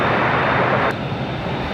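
An airliner takes off on a runway at LAX, producing a loud, dense, continuous engine roar that dips slightly partway through.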